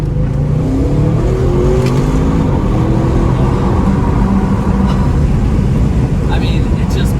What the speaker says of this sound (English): I mean, it just pulls like a freight train.